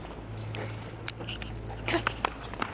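A stray puppy with no collar plays outdoors, with scattered soft nips, small scuffles and faint yelps, under a steady low hum.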